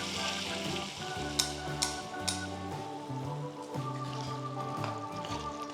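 Strained Rogan Josh spice mixture pours into a pot of mutton curry, which answers with a soft, continuous sizzle and bubble and a couple of faint clinks, close and quiet.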